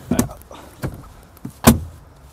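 Seats being pulled up inside a Seat Alhambra family car, heard as a few separate mechanical clunks and latch knocks spaced irregularly, close by, with the last one loudest.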